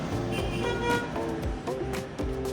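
A neighbour's car horn honks in a run of toots near a spot where liquid porcelain tile flooring is being poured, the blasts loud and close without talk.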